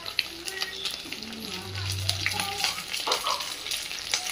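Jalebi fish frying in oil on a stone pan after being turned over, a steady close crackling sizzle with scattered pops and light scraping, a voice faintly underneath.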